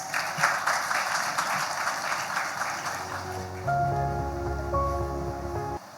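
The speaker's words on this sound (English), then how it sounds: "Let's give them a big round of applause." Applause from the audience at a school annual day gathering, a dense steady patter filling the first half before tonal music takes over and continues to the end.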